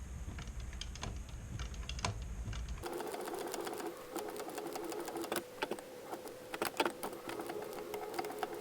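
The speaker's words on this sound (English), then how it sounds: "then I'll go into machine stitching" Sewing machine stitching along the curved edge of a leather wallet, a quick rattling mechanical run with sharp clicks, fairly near and alone without talk.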